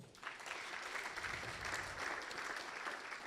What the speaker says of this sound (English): I think there we need to give them a clap.